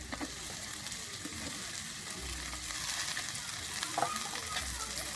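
Cut cauliflower drops into carrots and beans frying in oil, then steady sizzling and stirring continue, close and fairly quiet, with a few clinks and no talking.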